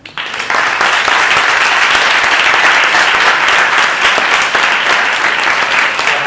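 An audience at a public science lecture bursts into sustained applause, a loud, dense wash of clapping that starts abruptly and continues evenly for several seconds without any voices on top.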